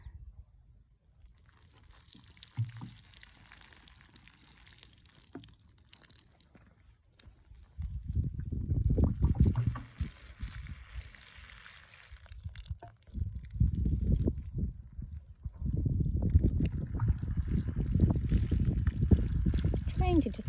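Water poured onto young cabbage plants in a garden plot, a gentle splashing and trickling that comes and goes in stretches, moderately close under quiet background noise.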